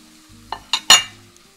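A few quick scraping stirs of button mushrooms in a hot pan, the last one loudest with a short sizzle, then quiet.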